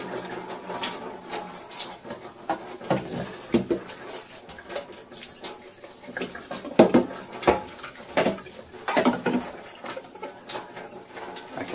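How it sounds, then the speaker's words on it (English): Water splashes and runs irregularly with clattering and scrubbing noises as a Dyson V6 cordless vacuum part is rinsed under a running warm tap nearby. "give it a good rinse under warm water."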